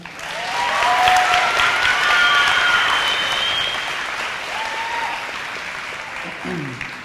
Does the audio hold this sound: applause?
yes